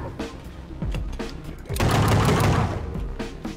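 Rapid pistol fire in the first-person shooter Project Warlock, a string of sharp loud cracks that thicken into a dense burst of overlapping shots and impacts midway through.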